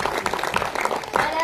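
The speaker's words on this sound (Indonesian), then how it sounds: "Boleh tepuk tangannya." Audience clapping at a school education fair performance of a prophet Sulaiman story, a brief dense patter of hands with voices mixed in.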